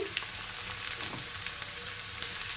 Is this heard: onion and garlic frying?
yes